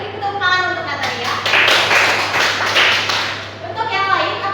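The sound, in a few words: classroom applause for a student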